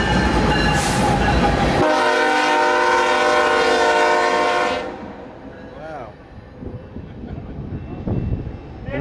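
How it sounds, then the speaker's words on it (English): BNSF track geometry train passing close, with a loud sustained horn blast over rushing rail noise that cuts off and fades into rumbling as the train moves away. "Oh! Geotrain. It's a geotrain."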